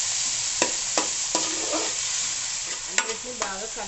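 Fresh coriander leaves crackle in hot oil as a tempering for a Telangana-style fish curry. A continuous close sizzle runs throughout, punctuated by several sharp clinks and scrapes of a spoon stirring the pan.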